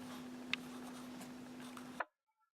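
A word is written by hand on paper, a faint, steady scratch of the writing tool with a couple of sharper taps, over a low hum that stops abruptly.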